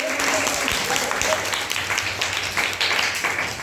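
Students in a classroom clap together on a teacher's cue, producing a dense, steady patter of many hands. It holds at an even loudness for about four seconds.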